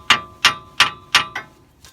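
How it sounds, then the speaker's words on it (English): A 1994 Ford F250 ball joint is struck with a hammer, giving five evenly spaced, sharp metallic clanks with ringing tails, the last one softer. "Kind of bang on it a little bit."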